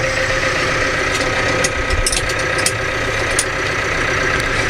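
A tractor engine idles steadily at close range, a continuous low mechanical rumble with faint knocking vibration and occasional light clicks, heard alone without talk.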